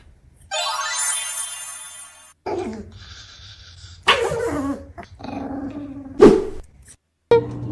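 A puppy makes several loud, close yelps and growly barks in separate bursts, with a high electronic ringing tone at the start and gaps of silence between the sounds.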